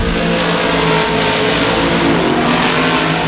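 Sportsman modified race cars roar down the backstretch of an oval track, a loud, sustained engine drone at full throttle that stays steady throughout.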